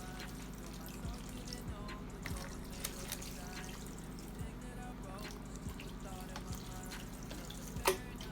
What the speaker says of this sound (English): You just pour your water in. Just give it a good old pour.